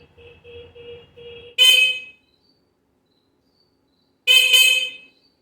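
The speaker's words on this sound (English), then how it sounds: "This may sound silly too, but I put a new horn on." A 1978 Honda Express NC50 moped's newly fitted horn gives two short, bright, loud honks about two and a half seconds apart, following a faint series of quieter beeps.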